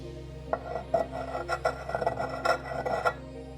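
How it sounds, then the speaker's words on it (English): A piece of mica rubbed on a ceramic porcelain streak plate gives a rhythmic rasping scrape, stroke after stroke in steady succession, close and fairly loud over a faint steady hum. "rub this part of the mica on the ceramic or the porcelain here"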